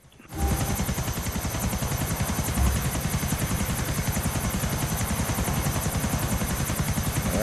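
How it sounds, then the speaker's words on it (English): Helicopter in the video game GTA IV, a loud steady rotor chop with engine whine that starts after a brief quiet opening and holds close and continuous throughout. "They're grabbing helicopters now."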